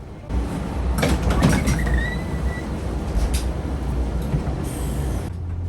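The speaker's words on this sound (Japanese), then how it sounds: "近長駅を発車。" A train pulling out of Chikanaga station in Japan, with a low rumbling engine, brief squeals and clunks of departure, and steady rolling noise heard from on board.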